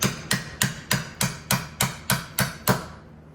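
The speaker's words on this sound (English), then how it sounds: "I'm going to grab my hammer" A hammer taps a bolt out of a Kia Optima or Hyundai Sonata rear brake assembly about ten times in a steady, even rhythm, each hit sharp and ringing briefly, close by with no talking.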